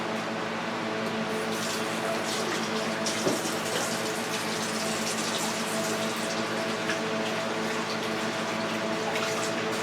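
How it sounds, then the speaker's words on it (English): Hands being washed under a running kitchen tap, a steady broadband rush of flowing water that stays even and continuous throughout, with no talking over it. "Wash my hands."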